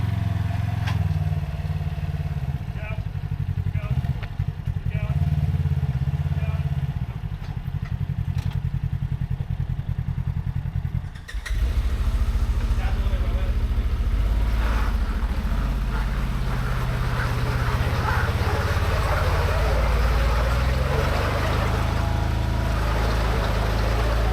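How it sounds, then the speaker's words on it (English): A Polaris RZR 1000 side-by-side off-road vehicle drives off outside a dealer, its engine loud and close. A steady low rumble builds sharply partway through into a stronger roar with clatter. "There goes Kyle, his Razor 1000."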